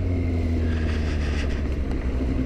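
A Kawasaki Z800 motorcycle engine hums steadily while riding, a continuous low drone with wind rush, close and moderately loud throughout.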